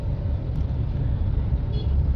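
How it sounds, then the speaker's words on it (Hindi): Road traffic heard from inside a car, a low steady rumble of engines and tyres with no talk, plus a faint distant horn near the end. "गुलशन पहुँच चुकी हूँ मैं, बस करीब ही हूँ यहाँ, और हमें ट्रैफिक मिल रहा है।"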